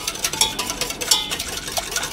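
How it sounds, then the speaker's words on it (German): A whisk stirring strawberry milk with a teaspoon of agar-agar, with quick repeated clinks and swishes against the bowl in an uneven rhythm, close up. "das Ganze dann mit dem Schneebesen durchrühren, dass es nicht klumpt"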